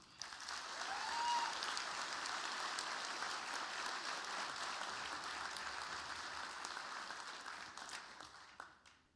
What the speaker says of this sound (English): Nice round of applause, please, for University of Nebraska's Eleanor Dale.